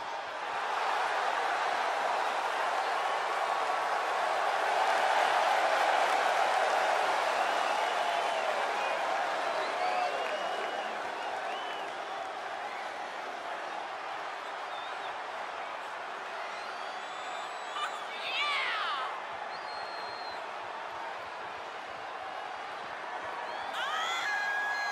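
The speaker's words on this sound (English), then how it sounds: "And just listen to that crowd." A virtual arena crowd in WWE 2K24 roars in a steady wash of cheering and noise for a wrestler's entrance, swelling and then easing slightly, with scattered whoops on top.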